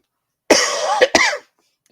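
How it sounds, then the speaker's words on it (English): A person coughs several times in a quick burst, close and loud, followed by silence. "I apologize again for coughing"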